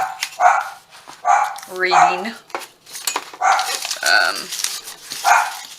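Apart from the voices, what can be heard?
dog barking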